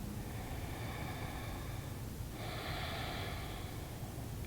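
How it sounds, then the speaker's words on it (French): Slow, audible breathing during a yoga exercise, a long exhale then a fresh breath, close and soft with no talking. "Encore 3 respirations."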